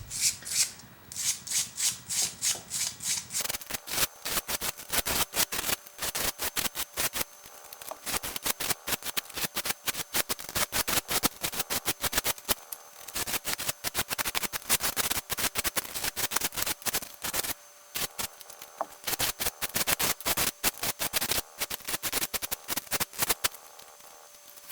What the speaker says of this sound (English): you take a wire brush like this with soft bristles and gently rake the surface of the foam